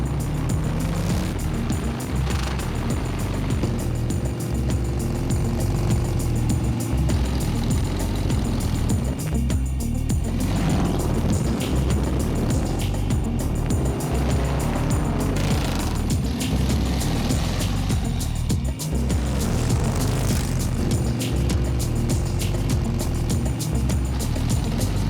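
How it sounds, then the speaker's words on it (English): Custom motorcycles riding at full throttle, a continuous loud low engine roar with wind rush, steady and close throughout with slight pulsing surges. "Cool bikes, full throttle, and totally in the wind."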